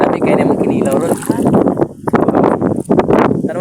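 Strong gusts of wind buffet the microphone outdoors by the sea, with a person talking over the roar.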